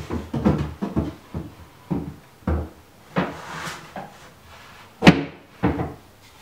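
A wooden drawer is dropped and set into a sanding center cabinet, giving a series of sharp wooden knocks and thuds, close and fairly loud, with a heavier slam near the end.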